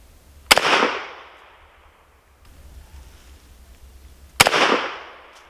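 Two loud, sharp shots from an M1A1 .30 carbine rifle fired outdoors several seconds apart, each crack trailing into a short echo, with quieter shuffling in between.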